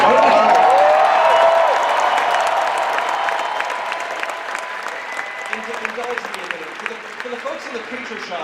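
Large convention crowd applauding and cheering at a Star Wars fan celebration opening ceremony, loud dense clapping with shouts that slowly fades over several seconds, with voices mixed in.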